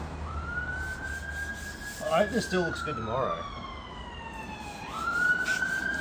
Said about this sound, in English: See a lot of emergency vehicles going past and hear sirens all day and all night